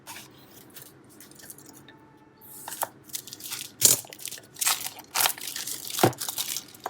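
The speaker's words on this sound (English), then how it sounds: "Let's cut the seal over here." Seal on a MIVI Duopods M40 earbuds box being cut, with bursts of crisp tearing and crinkling that grow louder and more frequent over a quiet background.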